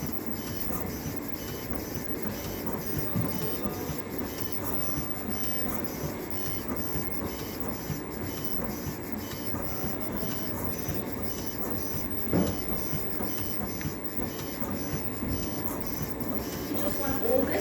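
A CNC machine engraves fine details into a gold-plated one-ounce silver coin, giving a steady whirring, buzzing drone with faint mechanical ticks throughout, continuous and close.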